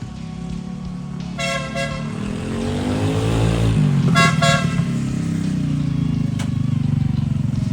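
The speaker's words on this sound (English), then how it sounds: "I can't believe how loud that horn is." A very loud, brassy 150 dB semi truck air horn fitted to a scooter blasts twice over the running engine, with the motor revving up and a short toot at the end.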